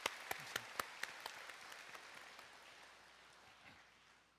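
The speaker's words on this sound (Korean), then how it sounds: "하나님께 영광의 박수 드리겠습니다." A church congregation applauds at a Korean summer revival gathering, opening with a few sharp, distinct claps that swell into soft, fairly distant applause before fading away.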